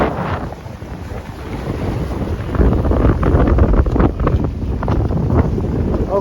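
High wind over Lake Chapala, heard as gusty buffeting on the microphone with a rushing, wave-like texture that grows stronger about halfway through.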